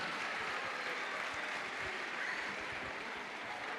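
An audience applauds a singer at a live outdoor event in Ollolai, a steady wash of clapping heard from a distance and fairly faint.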